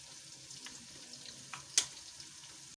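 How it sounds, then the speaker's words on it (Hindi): Onions and spices, including turmeric, fry steadily in hot oil in a kadhai, giving a soft, continuous sizzle with small crackles and one sharper pop. No voices are heard. "3 अदद प्याज थे हमारे पास जिनको हमने कढ़ाई में तेल में डाल के उनको फ्राई करने लगे।"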